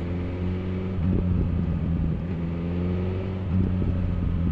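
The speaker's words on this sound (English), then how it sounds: "we've still got the burble coming off the throttle" A 2021 BMW S1000R Sport motorcycle engine with exhaust popping and burbling as the throttle closes, a low throbbing rumble with slight surges, steady and fairly close.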